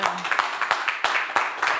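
Scattered claps from a modest audience arrive in uneven bursts, some sharp and close, mixed with light background voices.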